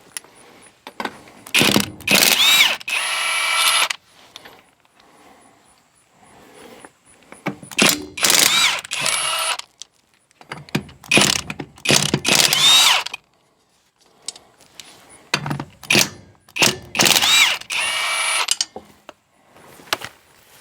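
An impact or power tool spins lug nuts off the wheels of a 1966 Chevrolet C10 pickup, in four loud bursts of whirring and rattling separated by quiet pauses, up close with no talk.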